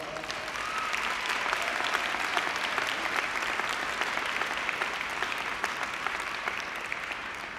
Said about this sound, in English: Graduates, let's give your parents a big round of applause.